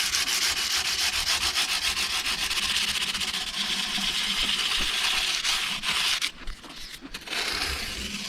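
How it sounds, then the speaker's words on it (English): The ends of a Harley Benton guitar are lightly sanded by hand with sandpaper, giving a steady, close, continuous rubbing scrape that breaks into shorter strokes near the end. "we're going to go back and just lightly hit the ends with some sandpaper."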